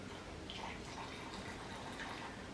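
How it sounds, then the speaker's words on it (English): Water is poured into a blender of salsa for a pambazo, making a continuous, close splashing and gurgling wash that runs steadily without a pause and with no talking. "So I'm gonna add a tiny bit more water."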